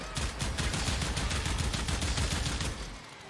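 Rapid automatic gunfire in the video game Warframe, a steady loud stream of shots for about three seconds before it cuts off.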